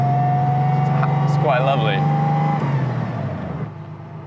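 A 1956 Mercedes 300SL Gullwing's engine drones steadily from inside the cabin while driving, a low continuous hum with a faint rising whine, fading slightly toward the end as a person talks over it.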